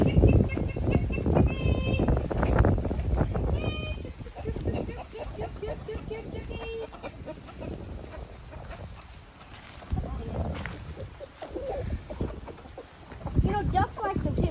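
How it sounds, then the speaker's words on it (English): Chickens cluck and squawk at feeding time on a homestead, scattered short calls close by, heard beneath steady conversation between people. "How many times have you taken them and fed the chickens?"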